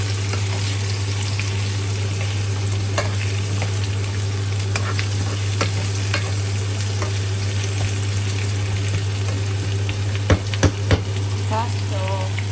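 Squash and eggplant being stir-fried together for pinakbet, with a constant loud sizzle, scattered utensil clicks and scrapes against the pan, and a few sharper knocks near the end.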